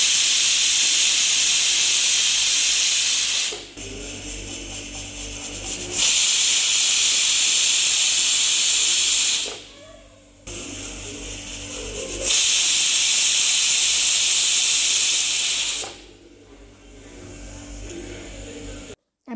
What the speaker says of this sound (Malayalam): വിസിലൊക്കെ വന്ന് വിസിലെല്ലാം പോയ ശേഷം ഞാനിപ്പോൾ കുക്കർ തുറക്കാണ് കേട്ടോ